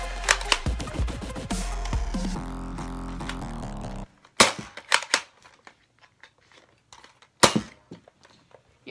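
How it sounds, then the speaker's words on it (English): A Nerf TS blaster fires standard mega foam darts, giving a handful of sharp, separate pops and clacks spaced unevenly over several seconds, each followed by faint mechanical handling noise. "shooting standard mega darts"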